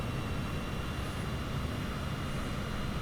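Airliner engine in Microsoft Flight Simulator, a steady, broad droning roar with no change in pitch or rhythm, continuous and fairly loud, with no talking.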